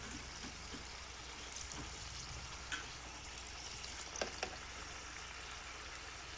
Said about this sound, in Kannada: ಚೆನ್ನಾಗಿ ಎಣ್ಣೆ ಬಿಸಿ ಆಗಬೇಕು ಇದು, ಆವಾಗಲೇ ಒಳಗಡೆ ಇರೋ ಮಟನ್ ಬೆಂದು ಬರುತ್ತೆ ಎಣ್ಣೆಯಲ್ಲಿ